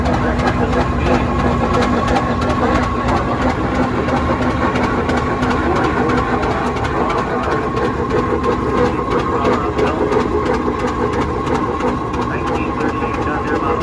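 Antique Rumely OilPull Model C oil tractor engine running steadily and loudly at a parade of power, a continuous close mechanical drone with a low throb under faint background noise.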